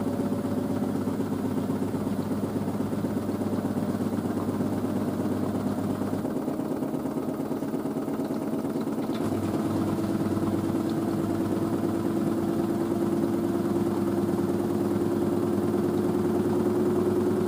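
An LG DirectDrive F1496AD washer dryer spins its drum at 800 RPM, giving a steady, continuous motor hum and whirr whose pitch slowly rises, loud and even throughout with no talking.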